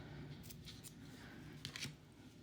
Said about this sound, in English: I'm gonna snip those ends